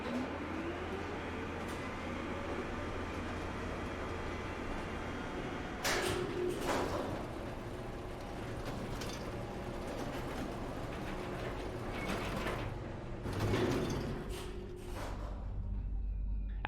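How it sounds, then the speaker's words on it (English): An elevator in the video game Riven travels down into a subterranean shaft and then sideways; a quiet low mechanical rumble runs throughout, broken by several sliding, clunking door-like thumps. "The elevator takes you further down than the bottom floor to a subterranean shaft, then takes you horizontally for a bit,"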